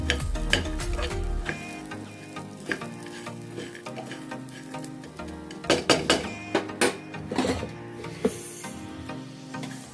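Sago pearls roast in a pan with a light steady sizzle while a spoon stirs them, producing scraping strokes and a cluster of sharp clinks against the metal toward the end.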